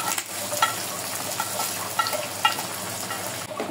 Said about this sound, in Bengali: আমি এখন লাউ কুচি দিয়ে দেবো।